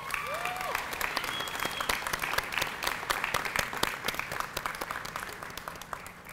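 Sparse audience clapping at a dual enrollment graduation ceremony, individual sharp claps ringing out in an uneven patter with a faint voice or whistle early on.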